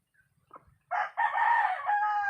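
A rooster, a cheap gamecock, crows once loudly and close by in a single long sustained call, preceded by a few faint clucks, with no talking.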